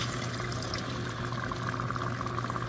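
Tamarind water poured into a pot of beef rendang, a quiet steady watery pour heard over a low continuous hum.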